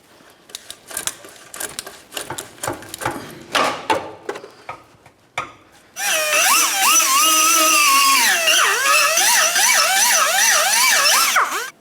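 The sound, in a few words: power tool cutting Scion xB exhaust pipe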